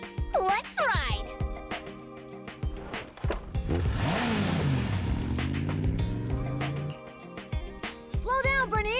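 Vehicles in the video game Zenless Zone Zero set off to ride, engines revving and whooshing past with swelling, sweeping pitch under loud lively dialogue and game music.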